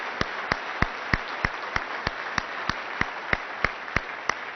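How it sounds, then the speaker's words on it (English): Evenly spaced claps at a steady rhythm of about three per second from an audience at a chamber of commerce awards event in Sheboygan County, fairly soft and moderately distant, with no voices. "So another round of applause for Red Raider."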